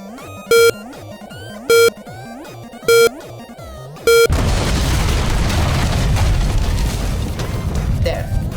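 A thrown bomb blows up in the side-scrolling game Adventure at C, a loud broad burst of noise that cuts off the preceding tonal game music and then roars on as sustained rumbling debris for several seconds.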